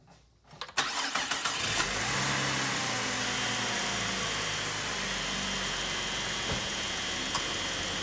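A Cadillac CTS engine cranks briefly and fires, then settles into a steady, fairly loud idle with a whirring fan hum, heard close with no talk.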